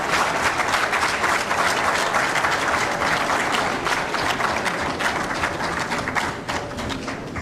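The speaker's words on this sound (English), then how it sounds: "So you must applaud us of giving you that opportunity for the first time." Steady, moderately loud audience applause during a political television programme, continuous dense clapping with a slight taper toward the end.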